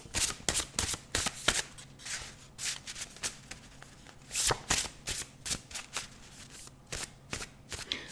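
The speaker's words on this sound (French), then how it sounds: "maintenant, on va un petit peu mélanger" A handmade deck of cards with an unfinished back is shuffled by hand, giving soft, papery riffles and flicks in uneven bursts, fairly quiet and close, with no talking.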